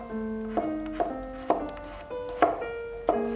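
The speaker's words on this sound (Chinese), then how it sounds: "4瓣大蒜，先切成薄片" A knife slices garlic cloves into thin pieces on a cutting board, about seven crisp, evenly spaced chops sounding close and clear, with a faint ringing tone lingering between strikes.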